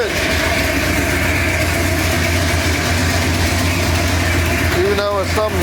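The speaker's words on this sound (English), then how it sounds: "Even though something's up with that carburetor, I got an exhaust leak up front." A 1968 Ford Torino engine with a carburetor problem and an exhaust leak at the front runs at a steady, loud idle up close, with a brief voice near the end.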